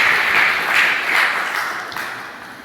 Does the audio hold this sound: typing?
no